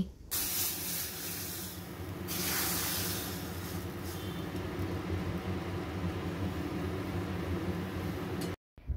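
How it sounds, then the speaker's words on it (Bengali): Hot tadka poured over dal for a greens-and-dal dish sends up a loud, steady sizzling hiss that holds for several seconds, swelling briefly partway through before cutting off abruptly near the end. "এবার গ্যাসের ফ্লেমটাকে অফ করে দিয়ে এই তড়কাটা আমি ডালের ওপরে দিয়ে দিচ্ছি"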